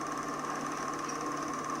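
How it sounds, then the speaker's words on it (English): A riding lawn mower engine running steadily, a continuous buzzing drone with a constant pitch and even loudness throughout. "All the kids took their turns riding the lawnmower."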